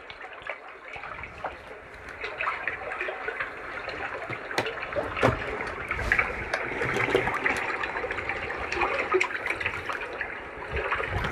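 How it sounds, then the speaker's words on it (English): Running water rushes and trickles steadily, building slightly in strength, as a fairly soft, continuous wash with scattered splashes and no talking. "They want you to be able to hear the sound of the water."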